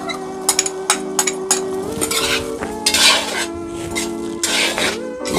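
A metal utensil scrapes and clinks against a cooking pan while chilli and spices are stirred for a zero-oil magur fish and ridge gourd curry, with repeated clattering strokes over a faint sizzle.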